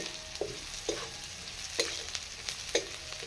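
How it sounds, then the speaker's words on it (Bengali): Chopped onions fry in a pan for a village-style Bengali dish, a soft steady sizzle broken by a few sharp scraping stirs at irregular intervals, close and fairly quiet with no talking. "পেঁয়াজটা ভাজা হয়ে গেছে"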